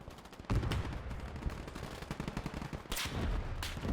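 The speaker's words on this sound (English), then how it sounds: "You can see the belt feeding rounds into the gun and then coming out on the other side empty." Sustained bursts of belt-fed machine gun fire from the video game Gates of Hell with modded gun sounds, rapid and loud, with heavier mortar booms breaking in near the start and around the three-second mark.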